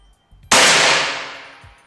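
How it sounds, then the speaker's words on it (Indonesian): A Bocap Bogel PCP air rifle fires a single loud, close shot that cracks sharply and then rings out with a clanging tail. The report dies away over about a second and a half. "Oke, tembakan yang ke-15."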